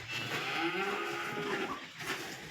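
A single drawn-out cow moo, fairly close, over quiet outdoor background.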